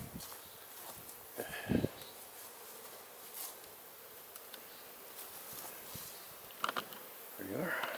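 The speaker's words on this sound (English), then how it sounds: "Looks like there's a pretty good population of bees." Honey bees buzzing around a medium box of a beehive, a faint, thin hum with a few louder passes near the microphone, plus light rustling and handling noises.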